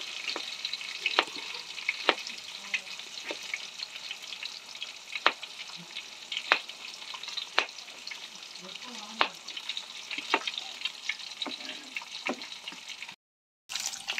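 Chopped tomato pieces frying in a pan for wheat rava upma, a soft continuous sizzle punctuated by regular clicks and taps of a spatula stirring, briefly cut to silence near the end.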